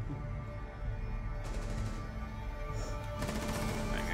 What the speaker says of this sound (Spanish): ¿Cómo lo mata con la ametralladora ligera?